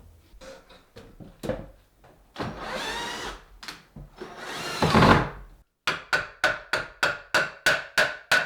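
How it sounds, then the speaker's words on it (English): A power drill bores ventilation holes in a wooden ceiling of a tiny house. It starts with short bursts, then runs longer whining passes, and ends in a quick series of about a dozen rhythmic drilling pulses. "I'm going to make holes with a drill to create ventilation points."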